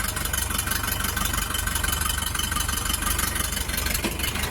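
An Orion 504 tractor's engine runs steadily during loading for shipment, a continuous loud, even diesel drone with a low rumble and no voices.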